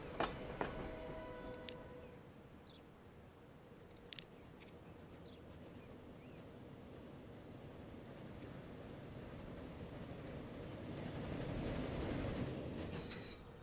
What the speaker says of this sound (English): Again, that train's not stopping there.